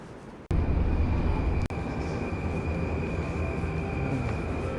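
A train rolls over elevated tracks in Tokyo, a steady close rumble with two sharp clanks near the start and a high metallic whine running through it.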